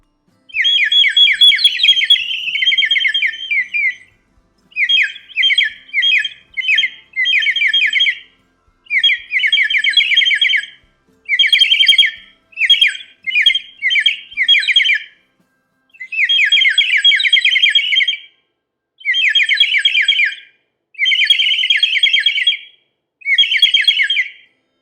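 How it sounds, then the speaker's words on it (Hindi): Small birds chirp and call in repeated bursts of bright, rapid twittering, each phrase a second or two long and separated by short silences. The calls are loud and close against an otherwise silent background. "जैतिया पहाड़ों के बीच में उड़ने वाली कई पंछियां थीं।"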